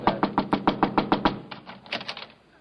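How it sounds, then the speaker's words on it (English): Sharp knocking on a door as a 1946 radio comedy sound effect, about a dozen firm raps in two quick runs, close and alone with no talking. "I walked up and knocked on the door"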